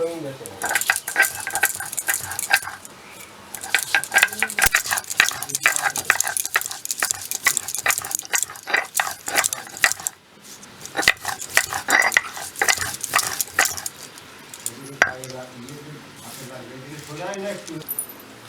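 Peeled ginger and garlic being ground into a paste for a meat curry, a busy series of rhythmic scraping and knocking strokes heard up close, with a person talking over parts of it.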